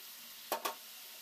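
A small splash of water hits hot caramelized sugar syrup for a cake, giving two quick, close hissing sizzles in a row over quiet room tone.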